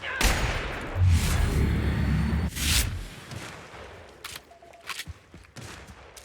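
Gunfire in The Outer Worlds video game, with dense bursts of shots in the first three seconds giving way to a few scattered, fainter shots afterward.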